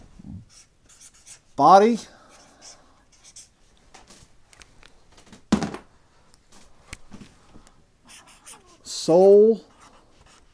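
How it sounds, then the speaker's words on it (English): Pen writing by hand on a surface, short scratchy strokes coming in bursts between spoken words from a nearby man. "in between the two here, I'll write this."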